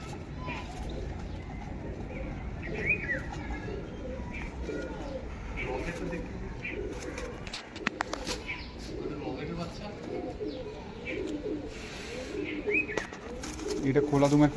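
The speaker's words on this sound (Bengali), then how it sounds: "এটা খোলা দুমের পায়রা আছে।" Domestic pigeons cooing in a loft, low soft coos repeating from several birds amid shuffling and fluttering, with a person talking nearby over the birds.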